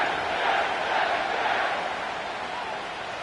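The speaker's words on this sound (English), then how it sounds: "The crowd is definitely ready." Stadium crowd in an EA Sports football video game at MetLife Stadium, a steady, broad roar of many voices holding at an even level throughout with no distinct talk.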